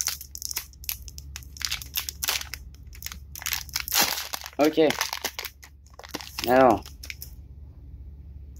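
Foil wrapper of a trading card booster pack crinkles and tears as it is pulled open by hand without scissors, in short crunchy bursts between a man's speech in French.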